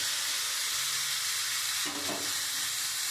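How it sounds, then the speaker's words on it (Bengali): Ground chilli, turmeric, cumin, coriander, salt and green chillies sizzle in a pan for a vegetable curry, a loud steady hiss with a brief surge of crackle midway, no voices. "আমি মশলাটা দিয়ে খুব সুন্দর করে আমি একটু কষিয়ে নেব"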